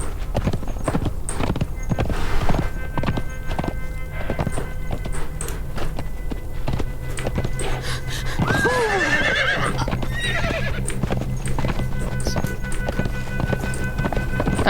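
A horse in the video game Conan Exiles whinnies loudly midway, over steady clip-clop of hooves walking throughout.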